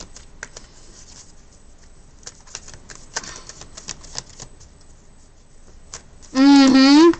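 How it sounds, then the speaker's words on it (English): Tarot cards are shuffled and handled, giving scattered soft riffling taps and patters across several seconds, followed by a loud tonal burst at the end. "I'm trying to just shuffle cards and everything is falling apart."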